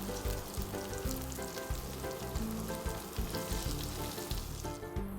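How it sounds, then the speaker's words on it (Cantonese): Oily dried fish pan-frying in a wok with barely any added oil until golden, a steady, close crackling sizzle with rhythmic pulses, no voices. "我哋將啲魚乾放落鑊煎到金黃色。"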